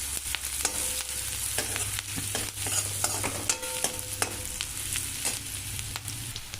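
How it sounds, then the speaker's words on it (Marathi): Chopped onion fries in oil while a spatula stirs it, with a constant near sizzle and repeated scraping strokes against the pan over a low hum. "आता आपला कांदा छान असा तेलामध्ये भाजला गेलाय"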